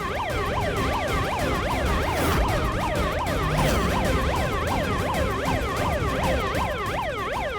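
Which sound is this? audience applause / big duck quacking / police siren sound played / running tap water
police siren sound played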